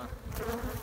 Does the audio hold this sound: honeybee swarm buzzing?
yes